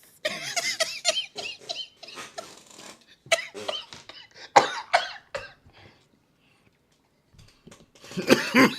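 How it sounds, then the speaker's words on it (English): A man coughs repeatedly in short bursts during a live stream, loud close hacking and throat clearing with brief pauses, ending in a final cough. "I can't get that cough out"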